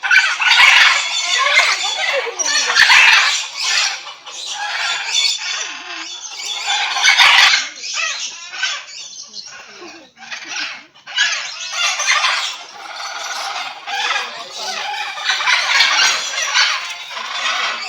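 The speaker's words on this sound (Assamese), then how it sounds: "হৰ্ণবিলবিলাক ওচৰৰ পৰা চাই ভাল লাগে, বহুত ডাঙৰ, সিহঁতৰ মাতটো মানে বহুত ডাঙৰ, চাউণ্ডটো মানে অলপ ভয় লগা" Hornbills at the Assam State Zoo in Guwahati give loud, harsh, squawking calls close by, repeated in long bursts with short pauses between them.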